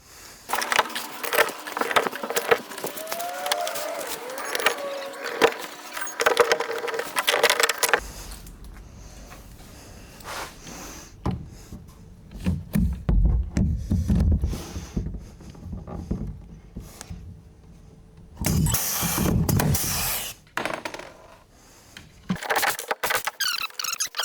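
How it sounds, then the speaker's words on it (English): Rivets fix plastic P-clips into an open canoe while whitewater flotation is being installed, heard as bursts of squeaky, rattling tool strokes and sharp clicks, separated by quieter pauses with scattered clunks. "Now we're just going to put in our P-clips with the rivets"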